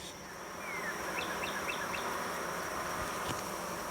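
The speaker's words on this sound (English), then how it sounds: "As you can hear, this roar of the bees have kind of picked up." A steady, dense buzzing of many honeybees at a hive during inspection fills the air continuously, with faint bird chirps briefly heard in the background.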